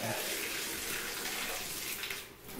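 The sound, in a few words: bathtub tap running with strong water pressure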